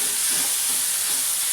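Chopped onion greens hiss and sizzle loudly in a hot pan, a dense continuous frying roar with faint stirring underneath, close up and with no voices.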